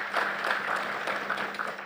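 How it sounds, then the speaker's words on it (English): Brief, even applause from a seated audience at the opening ceremony of the 18th OECS Credit Union Summit honours the Prime Minister, moderately loud and steady with no voices. "Can we give him a round of applause as well?"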